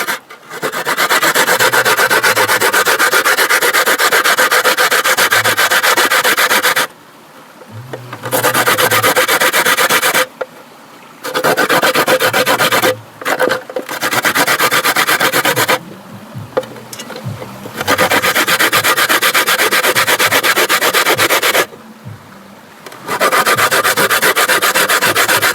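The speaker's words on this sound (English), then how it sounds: "I start grating up now, so just stay tuned. Get the coconut grated now." Coconut being grated by hand outdoors during bush cooking, a loud close rasping scrape in long continuous stretches broken by short pauses.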